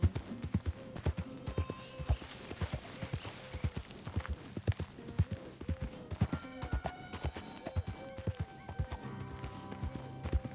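A horse in Red Dead Redemption 2 gallops in a clear, regular rhythm of loud, close hoofbeats that lasts throughout, with faint game ambience and a brief voice.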